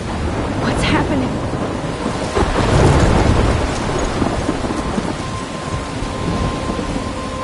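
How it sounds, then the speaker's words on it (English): Thunderstorm in the video game Life is Strange, with steady heavy rain and rolling thunder rumbling through the middle, loud and continuous throughout. "I'm trapped in a storm?"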